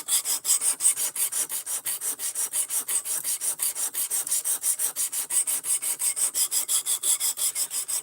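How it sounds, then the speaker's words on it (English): Steady, rhythmic rasping strokes of a blade being sharpened to 17 degrees per side, one pass roughly every quarter second, close and even in loudness, with no talk over it. "I am sharpening to 17 degrees per side."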